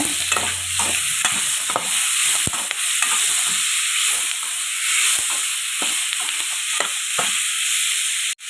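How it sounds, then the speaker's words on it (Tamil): Tomatoes with salt sautéing in a pan for a dried-fish thokku relish, with a loud continuous sizzle and repeated scraping stirs of a spoon every second or so, close up and without voices. "அதனால் நான் தக்காளிக்கு கொஞ்சம் உப்பு சேர்த்து வதக்கிக்கிறேங்க"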